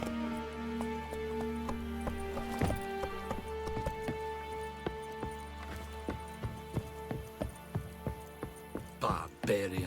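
A horse gallops in Witcher 3 Wild Hunt, its hooves clip-clopping in a quickening rhythm over a background music bed, ending in a louder burst of movement.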